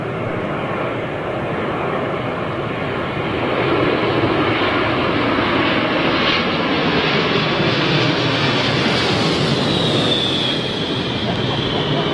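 An airliner on final approach to London Heathrow's runway 27L gives a steady, loud jet roar that swells slightly midway and holds, with a rising engine whine near the end.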